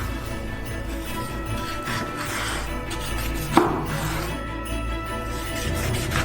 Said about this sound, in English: Now we'll cut our persimmon into cubes.